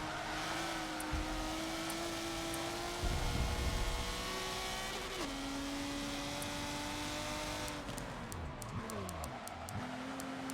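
A Subaru 22B in Forza 7 brakes into a corner. The engine drone drops in pitch through quick downshifts and blips, and a steady mechanical whine runs throughout at moderate loudness.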